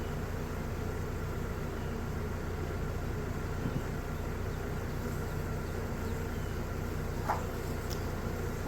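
Honeybees buzz steadily around an opened hive as frames from a split are inspected and shaken back in, a dense continuous hum that holds at an even level throughout.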